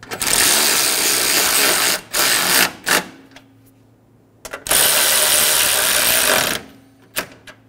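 Bolts are snugged down on the AC condenser of a 2007-2011 Toyota Camry 2.4L I4 with a power tool. Two loud, sustained whirring bursts are each followed by short clicks, with no talk.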